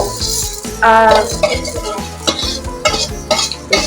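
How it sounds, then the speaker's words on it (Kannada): Chicken curry being stirred in a pot with a metal utensil, repeated scraping and clinking strokes over a soft sizzle, loud and close with no voices. "ಎಲ್ಲ ಚಿಕನ್ ಕೂಡ ಕವರ್ ಆಗಿ ಹೋಗ್ಬಿಡ್ಬೇಕು. ಆ ಥರ ಮಿಕ್ಸ್ ಮಾಡ್ಕೊಳ್ಬೇಕು."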